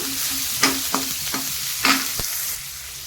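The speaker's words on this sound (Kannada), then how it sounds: "ಒಂದು ಈರುಳ್ಳಿ ಇದರಲ್ಲಿ ಹಾಕಿ ಫ್ರೈ ಮಾಡಬೇಕು" Chopped onion frying in a pan gives a steady, close sizzle, broken by several sharp scrapes and clicks from stirring, with no voices.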